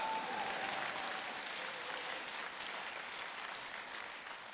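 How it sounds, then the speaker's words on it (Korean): Audience applause in a hall at a talk by an elder activist, dense steady clapping from many hands that holds at an even level throughout, with a faint tone briefly under it at the start. "손뼉 안 치면 가라."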